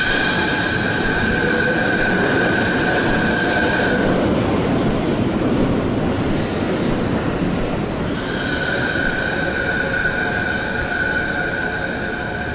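A suspended monorail train at Chiba Station rolls past with a steady rumble and a high metallic squeal that fades out midway, then returns, loud and sustained.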